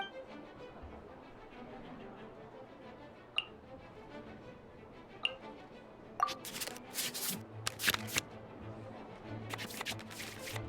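In the Genshin Impact card game, a soft game chime or tick rings twice before card-shuffling sound effects break out, quiet bursts of riffling clatter in the later part.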